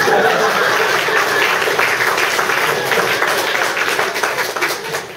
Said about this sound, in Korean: 이때 박수 쳐야지.